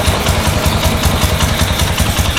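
A motorcycle engine fitted with a PZ27 carburetor, just rebuilt and with idle not yet adjusted, runs close and loud with a rapid, steady chugging pulse, a little uneven, for about two seconds.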